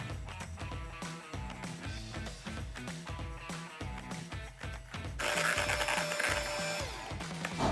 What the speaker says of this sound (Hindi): इसे इलेक्ट्रिक बीटर के साथ में व्हिप कर लूँगी